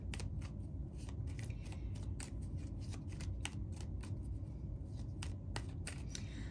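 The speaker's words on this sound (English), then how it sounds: "let's get you a few cards from Moon Magic." Moon Magic tarot cards are shuffled close up in a quiet room, a steady run of soft papery riffles and flicks over a low background hum.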